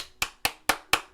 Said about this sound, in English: Okay, one clap.